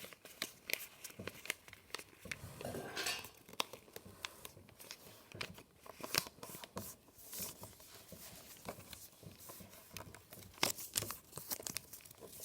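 Paper being folded for an origami ninja star, with crisp crinkles, creases and rustles in quick irregular bursts, close and quiet with no talking.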